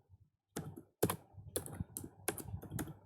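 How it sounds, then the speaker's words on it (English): Fingers type on a computer keyboard, bursts of crisp key clacks and a few heavier strokes, close and alone with no talking. "And one more program I am typing."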